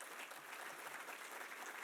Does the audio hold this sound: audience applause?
yes